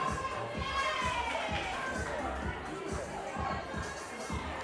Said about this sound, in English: Everyone cheering them on.